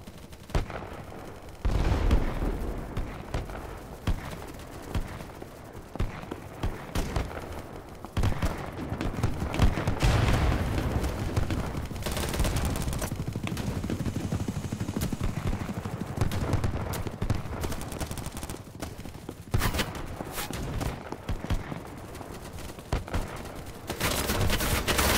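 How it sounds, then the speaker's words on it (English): Gunfire in the video game BattleBit Remastered during a night match, dense bursts of rapid shots and volleys running almost continuously, loud and close at times with rumbling blasts underneath. "Oh, he's shooting up there."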